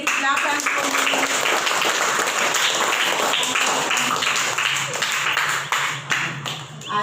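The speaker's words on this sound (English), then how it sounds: "Clap hands for me." A group of students clapping their hands together in a classroom, loud and sustained, with voices mixed in before it tapers at the end.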